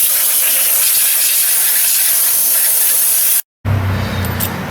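A compressed-air blow nozzle blasts cleaned parts of a Honda J35 3.5 V6 engine during a timing belt job, giving a loud, steady hiss for about three and a half seconds before cutting off abruptly.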